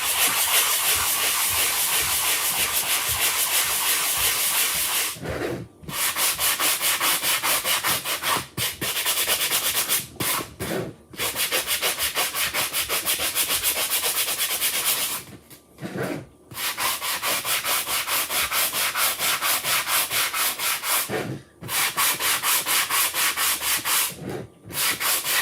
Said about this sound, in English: We are distressing the pumpkins by sanding them and going around the edges.